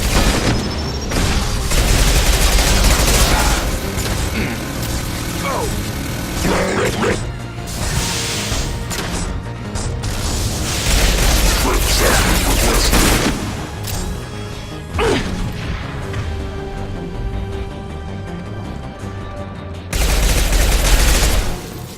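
Heavy-weapon gunfire in the video game Mass Effect 2, with loud sustained bursts and booming blasts spread over a long battle stretch, mixed with mechanical clatter and game effects.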